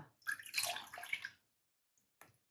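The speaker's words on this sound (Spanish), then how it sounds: "Voy a añadir 400 mililitros de agua." Water poured into a saucepan while mixing cornstarch for stiffening crochet: a splashing, gurgling pour of about a second, fairly close, then silence with a faint drip and a brief final splash.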